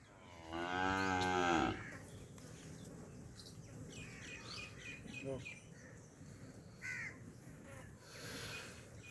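A young buffalo calf on a farm gives a loud, drawn-out low close by, then quieter calls follow, with crows cawing and people talking in the background.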